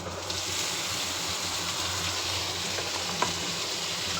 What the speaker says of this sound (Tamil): இதே மட்டனு, இஞ்சி பூண்டு பேஸ்ட்டு, டமாட்டோ வதக்கிட்டு இருக்கிறேன் நான்